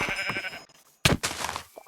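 Sheep bleating in the video game Minecraft, two short bleats with a brief gap between, near and fairly loud.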